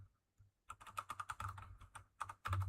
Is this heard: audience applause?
no